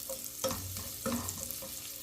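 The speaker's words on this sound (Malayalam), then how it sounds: "ബട്ടർ ഒന്ന് മെൽട്ടായി വരുമ്പോൾ നമുക്കിതിലേക്ക് 1 ടീസ്പൂൺ വെളുത്തുള്ളി അരിഞ്ഞ് ചേർത്ത് ഒന്ന് വഴറ്റി കൊടുക്കാം." Chopped garlic sautéing in melted butter in a pan, giving a soft, steady sizzle with a few gentle stirring scrapes, close but quiet.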